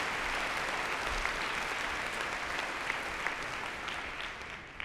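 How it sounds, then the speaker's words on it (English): Steady audience applause at an organizational culture talk, a dense, even wash of clapping that holds at a moderate level throughout without voices on top. "let's give them a round of applause"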